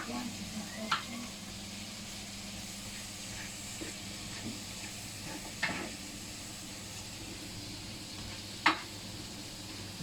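Paella ingredients cook gently in a pan, giving a soft, continuous sizzle and hiss broken by a few sharp clinks of a utensil.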